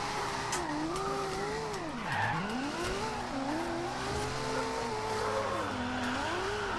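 A Nissan 370Z with shortened gearing drifts from corner to corner in Forza Horizon 2. Its tires squeal in long, swooping wails over a steady engine roar, rising and dipping through each slide, with no voices.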